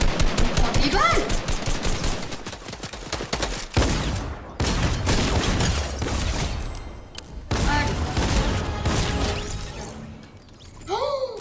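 Rapid automatic gunfire crackles in Fortnite Battle Royale, bursts of machine-gun fire broken by short pauses, loud and close, with players talking over parts of it.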